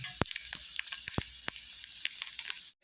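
Dry mature coconut pieces sizzling in a hot pan, a steady hiss of frying punctuated by sharp crackles and pops at irregular intervals, close and alone.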